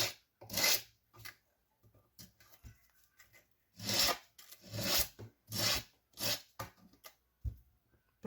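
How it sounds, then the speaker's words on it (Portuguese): Sandpaper is drawn lightly along an MDF edge to free the paper covering, giving close, rhythmic bursts of dry rasping strokes separated by short pauses, with no talk. "eu vou passar de leve a minha lixa até ela soltar o papel"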